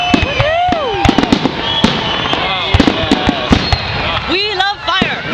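Victoria Day fireworks burst overhead in a rapid series of sharp cracks and pops at irregular intervals, with whistling launches and people talking and exclaiming throughout.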